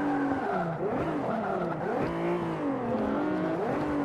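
Tyres skid and squeal on a car in the Forza 5 racing game, early hot hatch racing; a continuous wavering whine with sliding pitch sweeps over a steady engine drone, loud and close throughout.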